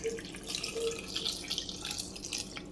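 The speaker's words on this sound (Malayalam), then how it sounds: "ഇനി ഇത് വേകാൻ ആവശ്യത്തിനുള്ള വെള്ളം," Water trickles into a pot of Kerala mango pulisseri curry with ripe mango, a faint close splashing pour with small drips and gurgles, no talk.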